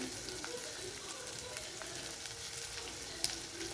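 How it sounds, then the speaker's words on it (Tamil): Small shallots and garlic sauté in oil for a tomato kulambu, a soft, even sizzle crackling steadily at low volume with one brief clink partway through. "சின்ன வெங்காயம் பூண்டு நல்லா வதங்குதுங்க"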